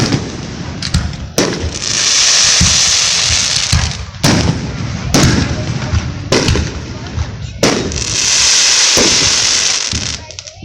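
Fireworks burst in a series of loud sharp booms, each followed by crackling, hissing sparkle, repeating every second or two close by.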